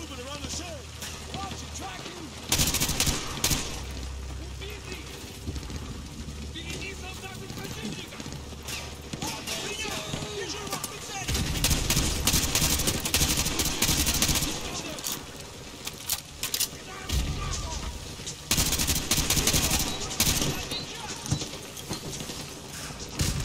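Machine gun fire in the video game Call of Duty Modern Warfare 2 Remastered, in several loud sustained bursts separated by quieter gaps, with someone talking at times between them.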